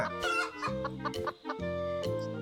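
A chicken in the Roblox game Mount Sumbing clucks in a quick run of close, clear, nasal cackles, with short pauses between bursts and no talking.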